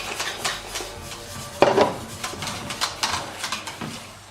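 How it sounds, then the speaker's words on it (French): A utensil scrapes and clinks against a bowl as milk is worked into a flan mixture of eggs, sugar and flour, making irregular close rubbing strokes with a sharper knock partway through; no voices. "vous versez un peu de lait"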